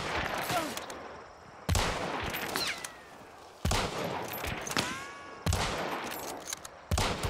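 A gunfire exchange in a peek fight in Hunt Showdown: four sharp, loud rifle shots a couple of seconds apart, each trailing off with a long echoing decay and ricocheting whistles, with no talking.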